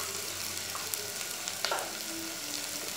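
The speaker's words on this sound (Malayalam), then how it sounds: "ഒന്ന് വഴറ്റിയ ശേഷം അതിലേക്ക് എടുത്തു വച്ചിട്ടുള്ള മുളക് പൊടിയും മഞ്ഞൾപ്പൊടിയും ചേർത്ത് കൊടുക്കുക" Potatoes sauté in a pan with chili powder and turmeric, giving a continuous sizzle with occasional spatula scrapes and clinks, close and steady, with no one speaking.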